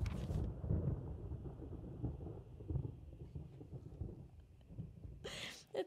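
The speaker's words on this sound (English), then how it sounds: "The thunder just scared me." Thunder in the Resident Evil 1 video game rolls as a long, deep rumble across several seconds, with rain-like noise beneath it and a sharp hiss at the end.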